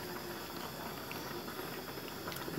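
Pasta boils in a pot of water, giving a steady, soft bubbling and hissing texture that continues evenly without talk.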